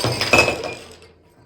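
A glass cup dropped in a home smashes with one loud, bright crash and a ringing shatter that quickly fades to quiet.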